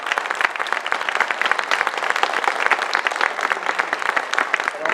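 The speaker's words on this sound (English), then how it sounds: "If you would all please join me in a round of applause thanking the candidates for here tonight." An audience at a superintendent candidates' forum claps in thanks, dense sustained applause from many hands filling the room evenly for several seconds.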